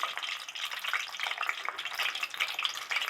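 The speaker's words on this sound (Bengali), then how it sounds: "আগে ডিমটা একটু ভেজে নিই।" An egg fries in a pan with a steady, dense crackling sizzle that runs without a break at close range, with no talking.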